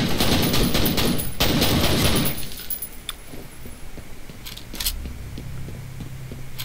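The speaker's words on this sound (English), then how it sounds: "Been shot at a lot. Ugh. So many guns." Dense automatic gunfire from the shooter game F.E.A.R. roars loudly for about two seconds, then gives way to scattered single shots, clinks and low rumbles in a quieter stretch.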